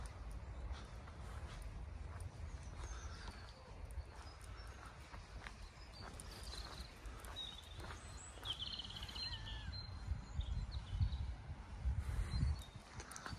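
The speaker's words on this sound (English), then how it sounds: "I'll be quiet so you can hear the birds" Birds sing and chirp intermittently in a nature reserve park in Lancashire, faint and somewhat distant over a low background rumble, with scattered calls throughout.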